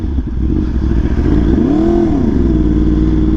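A Yamaha R1M sport motorcycle engine revs up in a smooth rising and falling sweep over a steady loud running drone, with no talking.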